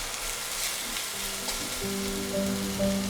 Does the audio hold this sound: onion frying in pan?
yes